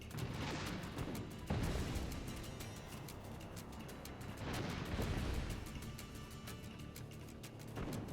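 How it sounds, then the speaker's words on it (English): Explosions rumble in the Sand Land video game, with two heavy booming blasts and a dense, sustained roar of battle noise throughout. "Where are these explosions happening?"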